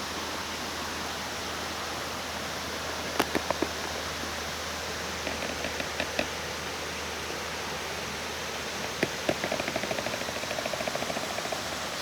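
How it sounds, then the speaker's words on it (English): French Creek in Warwick Park running over rocks, a steady close wash of flowing water, with a few faint clicks and taps scattered through it. "So that's French Creek."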